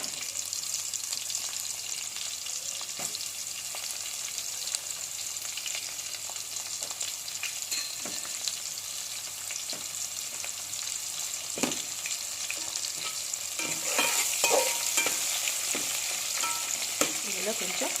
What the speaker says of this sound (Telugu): ఇప్పుడు ఇందులో ఆనియన్ పచ్చిమిర్చి కట్ చేసుకున్నవి ఉన్నాయి కదా,